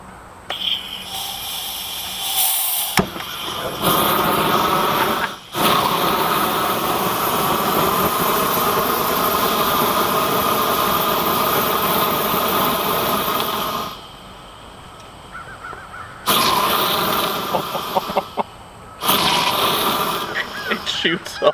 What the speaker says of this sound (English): It shoots a lot of fire.